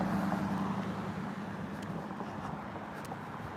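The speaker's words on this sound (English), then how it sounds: "This truck is driving up right now at the curb, and I hear the engine sounds right at the curb." A truck engine pulls up to a curb, a steady low rumble that fades slightly as it settles, with broadband road noise throughout and no speech.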